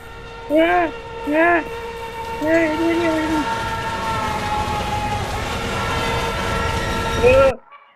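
A train horn in a Roblox video game blares in a few short bursts, then a long sustained blast over rumbling rail noise, ending with one more brief honk.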